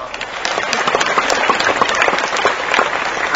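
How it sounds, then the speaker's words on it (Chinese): An audience at a Buddhist teaching event in Kuala Lumpur, Malaysia, breaks into dense, lively applause, a sustained crackle of many hands clapping throughout. "鼓掌"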